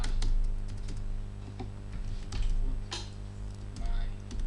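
Keys clatter on a computer keyboard in quick, uneven bursts, close by and moderately loud, while someone talks quietly in the background.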